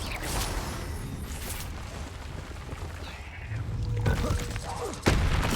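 Confringo fire spells blasting in the Hogwarts Legacy game on PS5, a dense run of loud booming bursts and crackling impacts mixed with combat noise, with sharper blasts near the end.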